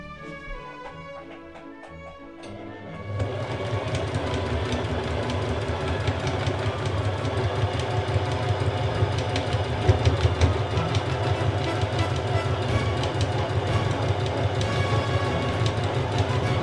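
Sewing machine stitching a quilted Easter tablecloth, starting with light clicks and then running steadily and loudly for a long stretch with a dense mechanical whir.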